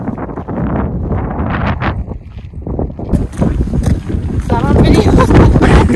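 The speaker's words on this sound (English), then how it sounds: "At times, the wind was almost deafening, making conversation difficult." Strong gusting wind roars across the microphone in Beartrap Canyon, loud and continuous, with people talking under the buffeting.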